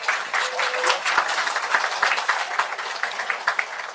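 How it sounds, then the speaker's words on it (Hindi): Sustained applause from a crowd, dense and steady clapping throughout with no speech over it. "ऊर्जावान ताली"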